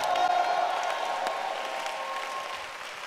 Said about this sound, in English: it deserves a better shout and a clap for what I'm talking about.